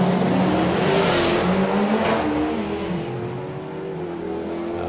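Doorslammer drag racing cars, one of them a Dodge, launch hard off the line, a loud roaring blast of engines with a brief tire squeal that fades as they pull away down the strip.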